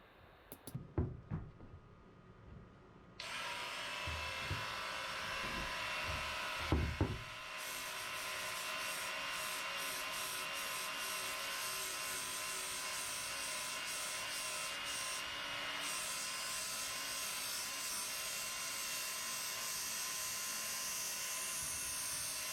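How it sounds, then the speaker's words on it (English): A Work Sharp tool sharpener grinds an axe blade, a steady loud high-pitched whine running continuously for about twenty seconds after a few short bumps and knocks at the start, with no talking. "I use the Work Sharp actually, tool sharpener"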